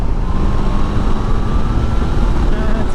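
A 2022 Triumph Tiger Sport 660 motorcycle cruises in sixth gear at about fifty miles an hour, its engine a steady droning hum mixed with heavy low wind rush.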